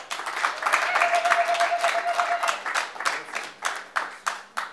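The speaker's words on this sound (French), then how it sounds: "Merci, applaudissez pour le papa." A short burst of applause from a small group at a civil wedding ceremony, fading into a few scattered claps, with a faint voice briefly underneath.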